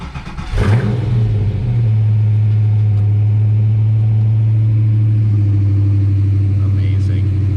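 A car engine cranks, catches and settles into a loud, steady rumbling idle close by, with a brief rev at the start, no voices over it.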